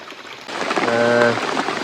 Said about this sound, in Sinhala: එනකොට මේක හයියෙන් වහිනවා.